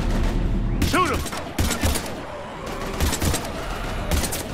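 Heavy gunfire in the video game Mass Effect 3, loud bursts of shots and booms in rapid clusters over a constant rumbling battle background.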